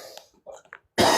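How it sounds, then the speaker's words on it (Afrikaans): A short cough from a person with a flu, heard faintly at first and then as one loud, close burst at the end. "so nou en dan draai ek my kop weg en vang ek net 'n hoesie"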